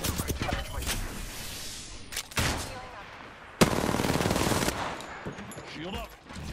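Automatic gunfire bursts in the video game Apex Legends, loud and dense, with rapid volleys, a sharp crack near the middle and sustained firing afterward, mixed with game effects.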